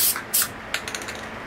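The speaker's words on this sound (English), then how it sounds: "Now I'll spray a little bit of orange." Orange spray paint hisses in two quick bursts from a can onto a small nature painting, followed by faint dabbing and rattling sounds.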